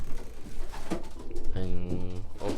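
Pigeons in a breeders' loft give a close, deep rolling coo in the second half, with wing and shuffling noise beforehand.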